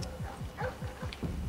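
Dogs in the stealth video game Splinter Cell Blacklist whimper and yip in a quick run of about six short, rhythmic cries, fairly close and steady over a low game background.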